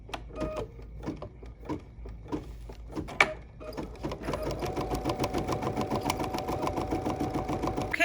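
An embroidery machine stitches a pumpkin design, starting with scattered clicks and short bursts, then settling into a fast, steady mechanical rhythm that stays close and loud with no talking.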